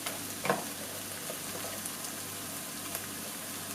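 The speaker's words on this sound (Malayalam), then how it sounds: "ഇനി ഇതെല്ലാം കൂടെ നന്നായിട്ട് നമുക്ക് വഴറ്റിയെടുക്കണം" Onions and spice powders sautéing in a pan for Kerala-style pork curry, a steady close sizzle with a couple of faint scraping stirs and no talk.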